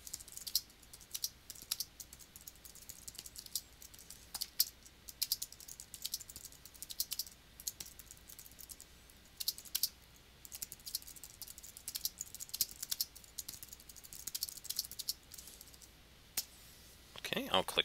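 Quick, irregular key clicks from a computer keyboard as text is typed into a box on a wiki page in Moodle, fairly faint and close, in uneven bursts with short pauses and some quiet background speech.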